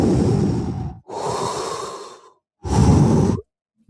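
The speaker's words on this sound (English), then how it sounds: "Now, I was doing Pauline breathwork" Forceful Pauline breathwork breaths, with two long, loud, rushing exhales separated by a quick inhale, then a pause and a shorter sharp breath, all close to the microphone.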